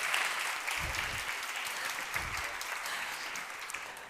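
An audience applauds a speaker at a women's investment summit, a steady wash of many hands clapping from start to finish, with a few faint low thumps underneath.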